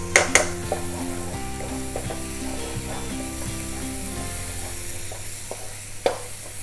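Tamarind puree hits a hot, sizzling pan while making Meen Pollichathu, a fish dish, giving a steady frying hiss with a few sharp clinks of utensils near the start and again toward the end.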